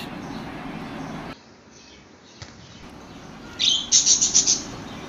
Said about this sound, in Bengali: এখানে দেখতে পাচ্ছেন একজোড়া লুটিনো কোকাটেল পাখি রয়েছে।